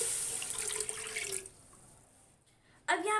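Water, about one and a half cups, is poured into a cooking pan for mustard greens saag, a steady splashing stream for over a second, then quiet, then a brief clatter at the end.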